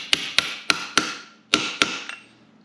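A hammer strikes a socket seated over valve spring keepers on a 6.0 LS engine, producing six sharp, close metallic knocks in an uneven rhythm, each ringing briefly before fading, with no other sound.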